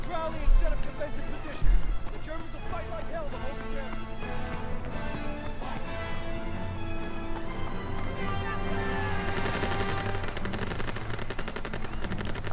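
Rapid gunfire crackles through a Call of Duty World War II firefight, with bursts of machine-gun shots over steady battle noise and music. The shooting stays loud and continuous throughout.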